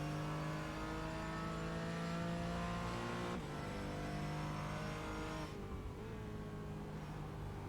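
A Porsche Cayman race car's engine on the Zolder circuit, heard from onboard as a loud, sustained high-revving drone that drops in pitch at two gear changes before pulling up again.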